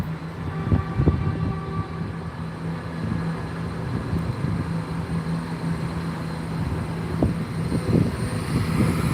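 A train passes at a distance in Gloucester, a low steady rumble with faint rhythmic wheel thumps and a sustained hum, with no voices.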